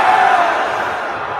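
A large crowd booing in a steady, loud, sustained roar that fills the space and slowly fades slightly over a second and a half.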